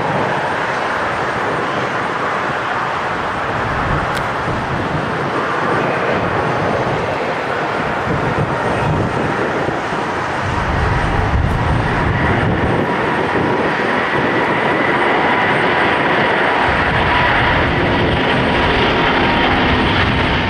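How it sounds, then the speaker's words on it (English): An Airbus A350 jet takes off from Minneapolis, its engines producing a steady, broad roar that swells and deepens partway through and holds loud and continuous throughout, with no voices. "This Airbus A350 made a very short takeoff from Minneapolis."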